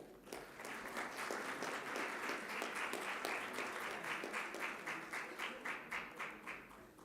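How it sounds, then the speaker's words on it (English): A crowd applauding at a university convocation, many hands clapping continuously with a faint rhythmic pulse emerging toward the end. "Manish Kumar, please clap for each one"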